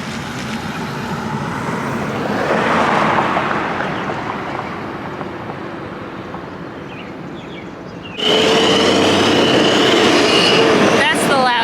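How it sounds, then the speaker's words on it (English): Side dump trucks rolling past close by, a loud, broad rumbling roar of road noise that swells, eases, then surges sharply louder for the last few seconds. "That's the loud guys. Dump trucks. Side dump."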